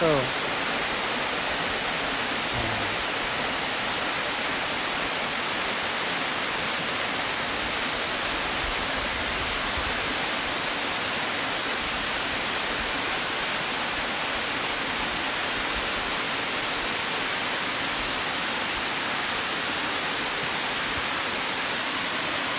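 Steady, dense roar of falling water fills the whole stretch, broadband and unchanging like a tall waterfall heard close by, in the hills of upper Marikina, Philippines, with no other sounds standing out.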